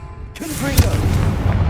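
A Confringo fire spell bursts in Hogwarts Legacy, one loud, close booming blast with a rumbling tail, heard under a voice that calls out at the same moment.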